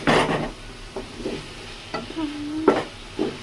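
Chicken fries in a pan for a home-style chicken fry, with intermittent stirring scrapes and soft bursts of sizzle at close range, no talking.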